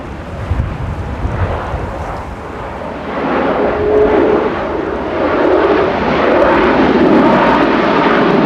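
A plane at Manchester Airport roars loudly while braking to stop on the runway. A broad, rumbling engine and wind noise builds and then holds steady, heard from a fair distance with no talk.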